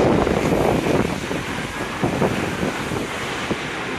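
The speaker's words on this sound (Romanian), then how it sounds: "Da, e cascadă, da, e cascadă" A powerful waterfall on a river gives a continuous broadband rushing roar, louder at first then holding steady, with some wind noise mixed in and no talk.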